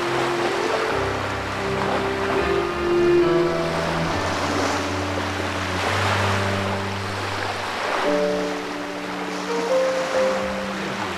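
Synthesized ocean surf in a media artwork, a steady wash of waves rolling continuously beneath sustained musical tones, loud and even throughout.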